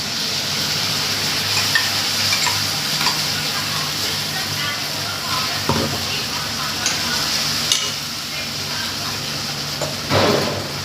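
A loud, steady sizzle as ground paste is poured into a hot pan for buttermilk curry, with scattered stirring clatter and a few brief sharp knocks, continuous throughout.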